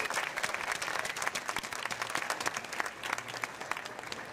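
A crowd applauds continuously, a dense, even wash of clapping at moderate distance with faint murmuring underneath.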